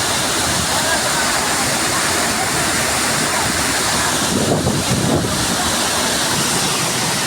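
Powerful rushing water roars steadily and loudly throughout, a dense continuous torrent close to the listener, swollen after rain.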